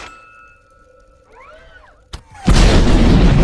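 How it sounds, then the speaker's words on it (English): A small missile strikes and blows up a tank in the Iron Man film: a rising whistle, then a sharp crack and a loud, sustained roaring blast that fills the end of the clip. "proceeds to defeat a tank with, well, one small missile."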